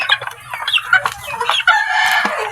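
Young rooster stags crowing and clucking close up, with several overlapping short clucks and strained, uneven crows from multiple birds over a couple of seconds.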